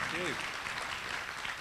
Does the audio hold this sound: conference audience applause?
yes